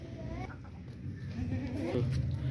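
A Teddy breed goat, a nanny kept with her young kid, gives a couple of soft bleats, faint and indoors-sounding, amid low background murmur and someone talking.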